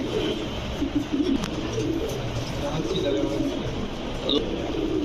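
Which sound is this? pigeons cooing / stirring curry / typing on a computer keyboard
pigeons cooing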